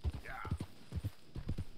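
Horse hooves clip-clop in an uneven, quick rhythm in Red Dead Redemption 2, quiet and near, with a brief faint whinny-like sweep early on.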